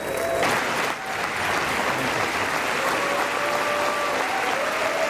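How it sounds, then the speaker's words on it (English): Sustained applause fills a chamber for Prime Minister Modi during his address to the U.S. Congress, a dense, steady roar of many hands with a faint crowd murmur underneath, continuous throughout. "Prime Minister Modi receives applause and 15 standing ovations during his address at the"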